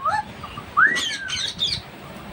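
A pet parrot indoors gives a few short, close chirps and a rising, whistled squawk that slides upward, with brief pauses between calls.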